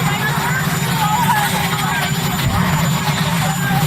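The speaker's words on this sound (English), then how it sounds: "you have a helicopter roaring in the background" A helicopter roars steadily and loudly in the background at a press briefing with the President, a constant rumbling drone beneath a murmur of voices.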